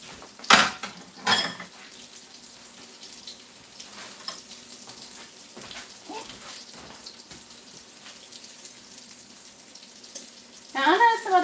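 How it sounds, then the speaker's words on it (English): A metal fork scrapes and clinks in a non-stick frying pan during home cooking of chicken parmesan, with sharp metallic taps and scrapes and a faint background sizzle. "you don't need to put your fork in the frying pan because it's non-stick"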